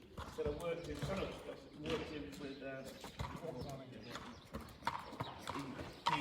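Hooves of a stallion clip-clop as the horse is stood up for viewing, a steady patter under ongoing talk, with a brief whinny-like note possible.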